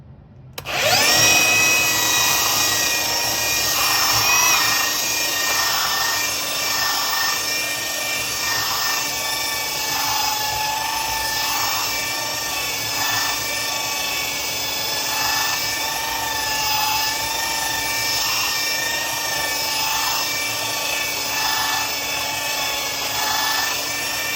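A Bauer 3 x 18 inch cordless belt sander runs on a clamped piece of cedar, giving a steady loud motor whine with rhythmic pulses as the belt passes over the wood, with no talk.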